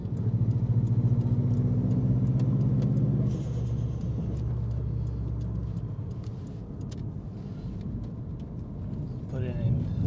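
A 2005 Subaru STi engine pulling hard in third gear under boost, a loud droning rumble that climbs steadily, then drops after a shift and carries on beneath road noise, with someone talking over it.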